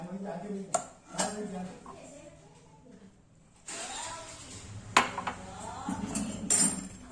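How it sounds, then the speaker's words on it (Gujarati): A spoon clinks and scrapes against a bowl in short bursts while gram flour, salt and water are stirred into a slurry, with someone speaking in between. "પાણી નાખીને હળવે એડ કરતું જવાનું છે, મિક્સ કરતું જવાનું છે"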